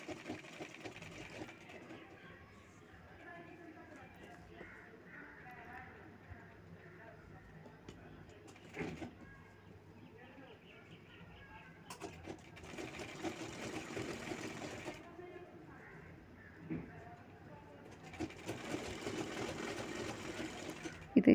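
An electric sewing machine stitches the hem strip of a baby boy's kurta in steady whirring bursts that stop and restart, close by, with someone talking over the motor at times.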